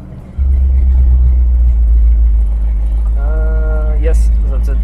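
A 1970 Plymouth Superbird, a NASCAR-bred road car, rumbles loud and deep at close range, its engine pulling hard with a sharp crack at a gear change; a voice speaks briefly near the end.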